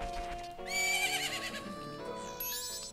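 A horse from the video game The Legend of Zelda: Majora's Mask gives a loud, drawn-out whinny with a rising squeal, layered over a sustained game soundtrack and a few hoof clops.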